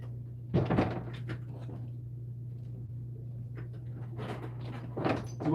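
A door thuds open or shut nearby, followed by quieter bumps and shuffling over a steady low electrical hum.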